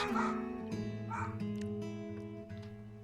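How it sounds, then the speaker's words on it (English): A small dog barks and whimpers repeatedly at neighbours mowing lawns, its yips rising in pitch, close by and fairly soft, with no talking over it. "Excuse my dog"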